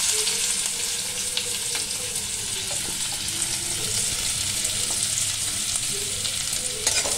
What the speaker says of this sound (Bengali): এবারে প্রথমে কড়াই তেল দিয়েছি, দিয়ে তোমার দেখো পেঁয়াজগুলো দেবো।